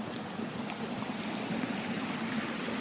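Water runs steadily along a muddy trail, a constant trickling, rushing wash that stays even and fairly close throughout with no voices.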